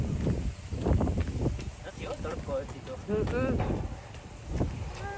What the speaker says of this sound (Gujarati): જો કેવો પવન